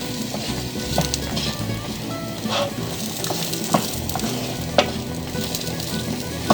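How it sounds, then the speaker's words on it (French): Potatoes and onions sizzle steadily in a frying pan, a close continuous crackle with occasional clinks and scrapes of stirring. "Donc je vais les laisser bien dorer."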